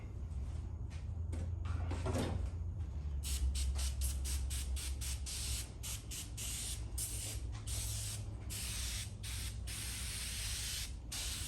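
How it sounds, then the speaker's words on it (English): Repeated bursts of Sprayway cleaner spray hitting a surface, a dense rapid series of short hissing squirts close by over a low steady background rumble. "I'm just gonna saturate it with some Spray-Way"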